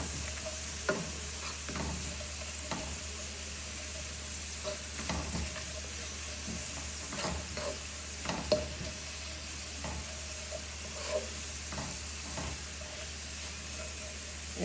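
Jute leaf greens fry in a pan, giving a steady low hiss and sizzle. Frequent scraping stirs repeat throughout, fairly quiet and without talk.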